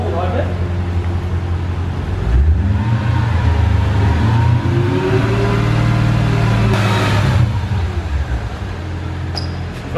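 Mercedes CL500 engine held at raised revs to help the ABC suspension pump lift the car, a loud close steady drone that climbs and holds, with someone talking over it.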